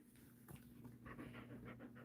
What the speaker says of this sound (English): I'll treat you guys with the dog.